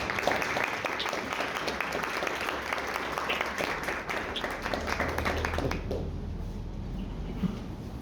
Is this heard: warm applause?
yes